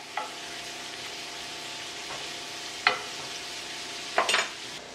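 Shrimp cooked in compound butter in a pot, stirred with a spoon; a steady sizzle runs throughout, broken by a few short scraping clinks of the stirring.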